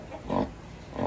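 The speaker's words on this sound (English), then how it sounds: "This is one of our sows." A farm sow gives two short, soft grunts about three quarters of a second apart, close by but quiet.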